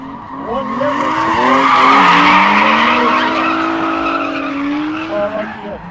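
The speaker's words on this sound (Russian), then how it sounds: "Какой близкий дрифт!" A drift car skids past close by, its tires squealing in a long, loud, wavering howl that swells to a peak mid-way and then trails off as the car slides through.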